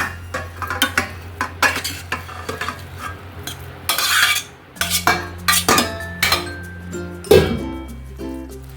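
A utensil mashes cooked rice in a metal pot for curd rice, making repeated close scraping and clinking strokes against the pot in a steady, uneven rhythm.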